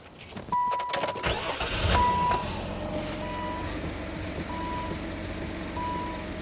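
A 2001 Nissan Maxima engine cranks and catches, revving up loudly before settling into a steady idle, with a few chiming beeps repeating in the background.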